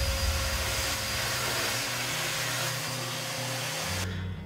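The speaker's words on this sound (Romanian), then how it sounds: "Și în acest caz, puterea de aspirare este foarte mare, întreaga cantitate de lichid fiind aspirată în doar câteva secunde." A Parkside PWS 20 C2 wet-dry vacuum sucks up liquid with a loud, steady, close-up whooshing roar and a whining motor tone, cutting off abruptly at the end.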